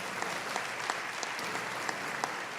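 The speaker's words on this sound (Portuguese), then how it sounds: "aleluia, pode aplaudir" Quiet, steady applause from a church congregation after a conversion testimony, a soft continuous patter of many hands heard from a distance with a few sharper claps.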